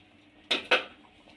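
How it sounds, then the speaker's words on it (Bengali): A metal lid lifted off a cooking pot of simmering potato and pointed gourd curry, giving two quick clinking knocks close by, then quiet. "10 মিনিট পর আমি এবার ঢাকাটা খুলে নেব।"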